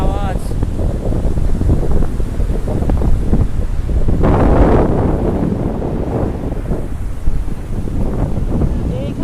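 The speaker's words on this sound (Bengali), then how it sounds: "আর সমুদ্রের কি বিশাল আওয়াজ।" Sea waves and wind on the beach at Cox's Bazar, a loud continuous roar of surf with buffeting wind noise on the microphone and a wave surging up midway.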